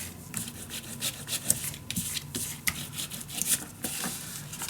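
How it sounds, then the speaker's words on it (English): Paper is burnished down by hand onto a page of a winter-themed paper mini album, making close, repeated soft rubbing and scraping strokes in an irregular rhythm. "Burnish it down."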